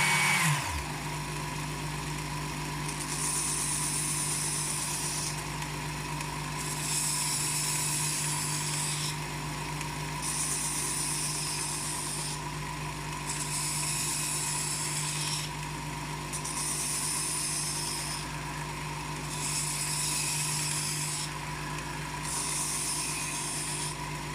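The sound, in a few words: belt knife sharpener polishing blade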